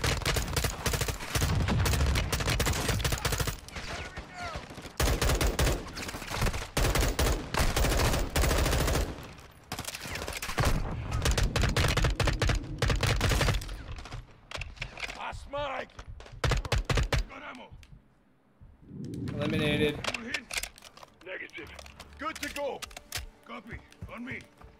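Bursts of automatic gunfire and explosive RPG fire from the Modern Warfare 2 campaign, loud dense volleys broken by quieter gaps, with people talking over parts of it.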